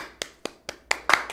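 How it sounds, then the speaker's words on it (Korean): Hands clap six times in a steady rhythm, each clap crisp and close, with the last few louder and fuller, as if several people join in. "자, 박수!"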